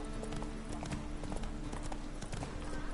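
Hooves of Roach, Geralt's horse in the video game Witcher 3, gallop in a quick, steady clip-clop rhythm that runs close and loud for the whole stretch over a dense game soundscape.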